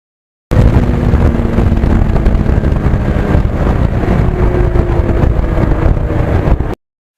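A 1991 Yamaha FZR 1000cc motorcycle engine gives a loud, continuous roar up close, steady throughout with heavy low rumble and some wind buffeting on the microphone.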